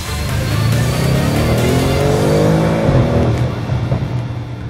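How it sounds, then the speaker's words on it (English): Audi RS6 V8 with a sports exhaust revving hard, a loud, deep, rising engine note that climbs and falls steadily, close by and continuous with no talking. "One only recognizes its worth when the sports exhaust starts to sing."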